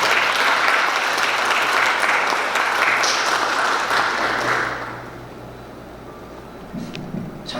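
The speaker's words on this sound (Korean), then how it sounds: "박수 좀 한번 보내주세요" An indoor audience at a forum meeting claps loudly and steadily for about five seconds, then the applause cuts off and the room falls quiet, with faint sounds at the end.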